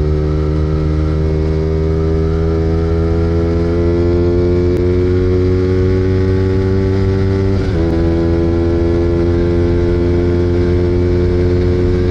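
A steady motorcycle engine runs close by, its low rumble holding an even pitch with a brief dip near the end, no voices.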